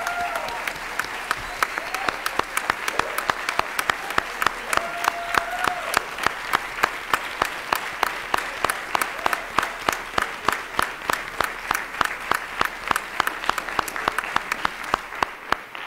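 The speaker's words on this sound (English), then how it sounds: "Give her a round of applause." Chicago City Council chamber crowd giving a long round of applause, turning into steady rhythmic unison clapping that carries on for over fifteen seconds, with voices murmuring underneath.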